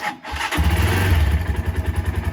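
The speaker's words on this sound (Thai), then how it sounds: "เราจะสตาร์ทฟังเสียงเครื่องกันเลยนะครับ" A GPX Gentleman 200cc motorcycle engine cranks and catches, then settles into a steady, pulsing idle close by.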